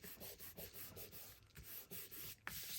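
A sheet of pressed paper card is rubbed firmly on the back by hand, a soft dry rhythmic scraping in short repeated strokes, close but quiet, with no voices.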